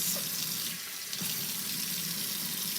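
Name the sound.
running tap water for a dog's bath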